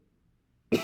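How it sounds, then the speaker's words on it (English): A single sharp cough bursts out near the end after near silence, loud and close to the microphone. "I'm going to have a coughing fit."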